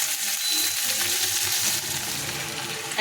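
Tomato and green chillies hit hot oil in a pan and sizzle loudly and steadily, a dense crackling hiss that holds throughout at close range with faint stirring underneath.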